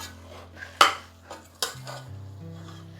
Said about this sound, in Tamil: இப்போ அதை நல்லா வதக்கி விட்டுடலாம்